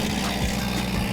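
A worn, long-abandoned Bentley Continental GT engine running after being brought back to life, a steady, dense idle rumble heard close up with no talk over it.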